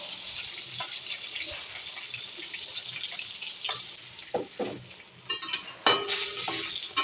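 Fried rohu fish pieces being lifted out of hot oil in a wok, giving a steady soft sizzle with scraping clicks and a few sharper knocks of the utensil toward the end, no talk.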